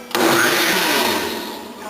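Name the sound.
blender pureeing soup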